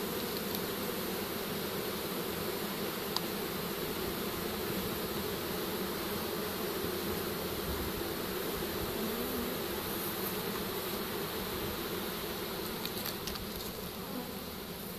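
A captured swarm of honeybees fills a pole-mounted capture bucket with a dense, steady buzzing drone that holds evenly throughout, close and continuous with no talking.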